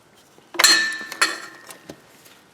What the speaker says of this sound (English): we're going to remove these 3 bolts off of the oil filter housing